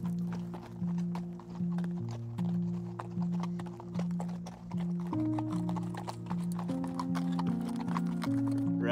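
Mustang horses walking over rough open country, hooves clip-clopping in a steady, close rhythm alongside a persistent tonal hum, with no talk.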